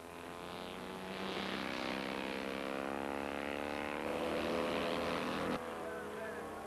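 A vintage single-seater racing car engine on a historic race circuit during the first heat, a steady droning roar passing at moderate distance with a rising then sustained pitch, speech faintly present beneath.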